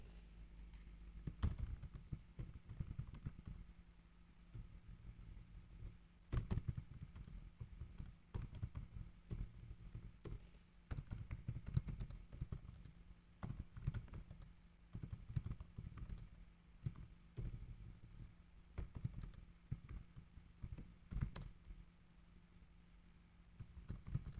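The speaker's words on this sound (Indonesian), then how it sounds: "Kok bisa mengetik cepat gitu ya?" Fast typing on a computer keyboard, a quiet, close patter of irregular key clicks and taps coming in rapid bursts with brief pauses, set against faint room hum and no talking.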